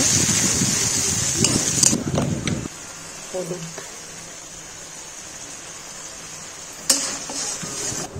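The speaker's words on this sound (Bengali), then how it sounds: "বাটা মশলাটা দিয়ে ভালো করে মশলাটা কষিয়ে নেব" Spice paste for chicken kosha is stir-fried in a pan, starting with a loud sizzle and scraping that drops suddenly to a quiet hiss with faint clinks, then returns briefly with a sharp scrape.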